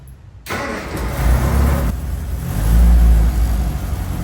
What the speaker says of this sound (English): Let's see if the engine starts.